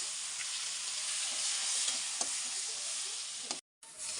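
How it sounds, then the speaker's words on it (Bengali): Dried fish (shutki) frying in a pan, giving a loud, steady close-up sizzle with faint crackles, which cuts out for a moment near the end. "শুটকিটা ভাজা হচ্ছে, প্রায় কাছাকাছি ভাজা হয়ে গেছে"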